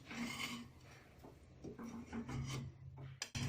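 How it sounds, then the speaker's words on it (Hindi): Cooled rabri layers are scraped off a pan, a series of close, quiet rasping scrapes in short irregular strokes, with no talk. "अब बस इसे खुरुच के निकालना है"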